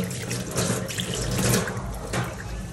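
Water runs from a faucet into a kitchen sink during a quick rinse after washing fish and prawns, a steady close splashing stream with no talk.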